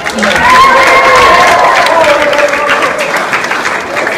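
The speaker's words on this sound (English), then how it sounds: "applause for Lifeguard Luke." Loud audience applause and cheering from a crowd that includes children, with dense clapping and raised voices holding steady throughout.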